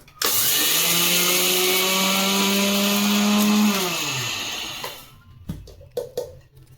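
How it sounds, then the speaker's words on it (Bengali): An electric mixer grinder pulverises 150 grams of sugar for a plum cake, running at a steady high whine for about four seconds before winding down, followed by clinks and rattles as it stops. "এবার আমাদের মিক্সিতে এই দেড়শো গ্রাম চিনি গুঁড়ো করে নেওয়া হচ্ছে"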